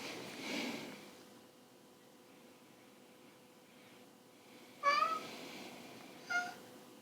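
A cat named Milo meows twice during a quiet yin yoga class, a short rising call followed by a briefer one, both fairly close over a soft hushed room tone.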